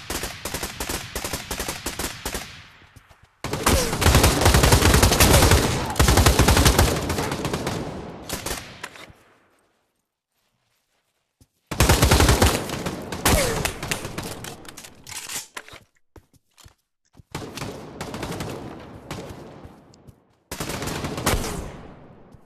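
Bursts of rapid automatic gunfire from the VR shooter Pavlov in a search-and-destroy match on the Shack map, loud dense volleys separated by silent gaps, with a few single sharp shots near the end.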